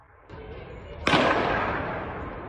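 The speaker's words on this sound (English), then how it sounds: "How do gunshots ring out from the schoolyard? You can hear it in this video that's spreading online." Gunshots from a traumatic pistol in a schoolyard: one sharp, loud crack that rings and slowly decays, preceded by a softer thud and a rise in background noise.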